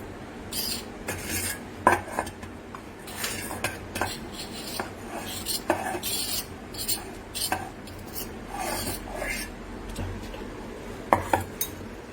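Ground paneer stuffing is poured and scraped from a grinder jar into a bowl, with close scrapes, spoon clinks and dull knocks against the containers in an irregular series in a home kitchen.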